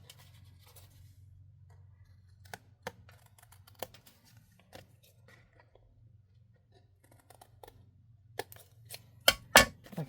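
Scissors trimming papercraft pieces off a handmade thank you card, a few faint snips and paper rustles scattered over a low hum, ending with several louder close cuts.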